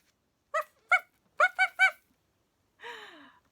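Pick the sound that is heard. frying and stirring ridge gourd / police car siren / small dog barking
small dog barking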